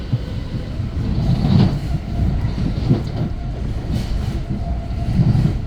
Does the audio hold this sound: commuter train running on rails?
yes